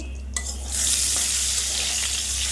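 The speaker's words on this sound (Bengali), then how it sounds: "পটলটা ভাজা করছি, তোমরাও এইভাবে ভাজা করবে।" Pointed gourd frying in oil in a pan makes a steady, close, bright sizzle that swells after a brief clatter at the start, continuous and alone without speech.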